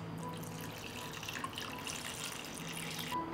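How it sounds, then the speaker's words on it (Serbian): Tap water runs steadily into a cooking pot packed with jars set on a cloth, a continuous splashing stream that stays close and moderately quiet, ending with a brief change near the end. "I sipat ćemo vodu do visine poklopca."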